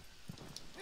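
A short burst of galloping from Agro, the horse in Shadow of the Colossus, with a few soft hoof thuds over a low steady background and no voices.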